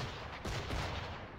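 Warship cannon shots from Assassin's Creed IV Black Flag in a sea battle, a couple of quick booming blasts close together over a constant rumbling background, loud and with nobody talking.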